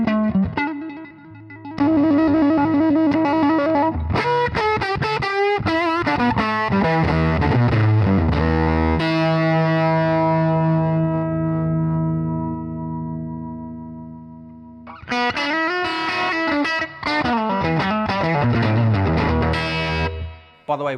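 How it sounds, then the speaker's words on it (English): An amp driven through a limited-edition CV7003 germanium Pedal Pawn fuzz pedal, playing loud, thick, saturated guitar with strummed chords and sustained notes, a pause of ringing decay, then a return to hard chopped riffing. "CV7003 limited edition germanium version of the pedal pawn fuzz, and it's got a super creamy kind of tone"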